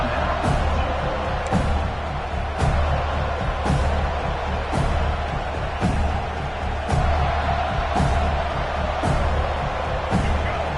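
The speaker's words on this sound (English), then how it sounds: "listen to this crowd coming through" A college football stadium crowd roars and cheers continuously during a game, a broad, loud wash of noise with sharper bursts and claps repeating about once a second throughout.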